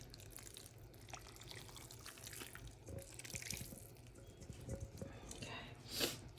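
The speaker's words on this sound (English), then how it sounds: "So I'm gonna pour this into the cornbread. This is the juice from the turkey." Turkey juice is poured over cornbread for a Thanksgiving oyster dressing: a soft, steady liquid trickle and splash runs throughout at close range, with a slightly stronger splash near the end.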